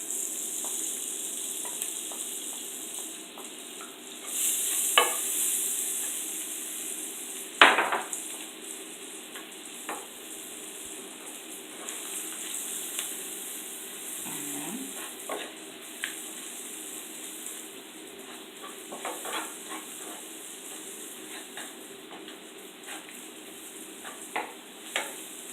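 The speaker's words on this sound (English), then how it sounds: "Okay, then I'm gonna add my garlic. And my scallions." Garlic and scallions frying in a pot for curry shrimp, a steady close sizzle running throughout with occasional stirring clinks and scrapes, no talking.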